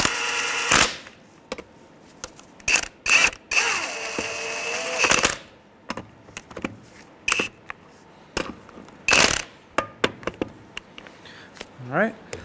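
A ratchet with a 19 mm socket snugs the lug nuts on a Honda Element, giving short bursts of rapid clicking and clacking separated by quiet gaps, close up.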